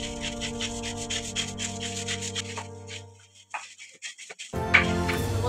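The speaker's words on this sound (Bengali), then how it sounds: "এবার আমি ব্রাশ নিয়েছি, ব্রাশে করে আমি ঘষে একটু পরিষ্কার করে আপনাদের দেখিয়ে দেবো" A brush scrubs a toilet bowl with homemade cleaner in quick, repeated strokes, partly under a steady tonal background hum, followed by a brief pause and a louder clatter at the end.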